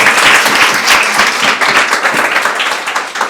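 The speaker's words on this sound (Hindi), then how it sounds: "फिर भी तालियां इतनी कम ऊर्जा के साथ" Sustained audience applause fills a hall at an NDA 2 2023 result announcement event, a dense, even wash of many hands clapping close and loud throughout with no pauses.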